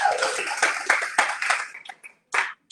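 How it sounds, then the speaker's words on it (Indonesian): A church congregation claps during a sermon: a burst of sharp, close hand claps that thins out into a few scattered last claps before stopping. "Mereka tepuk tangan."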